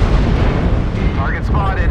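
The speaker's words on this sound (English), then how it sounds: "Artillery strike." Loud, sustained rumbling blast from an artillery strike in the MechWarrior Online game, a heavy roar of explosions that fills the whole moment, with a faint voice mixed underneath.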